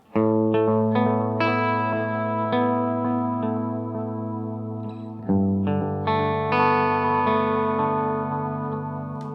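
Electric guitar through the Hungry Robot Pedals The Wash effect set to a lower, subtler level, with sustained chords ringing into a soft delay and ambient wash, two strummed passages played alone, loud and close.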